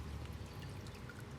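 Water pours onto a succulent arrangement, a short soft splashing and dribbling that is faint and close.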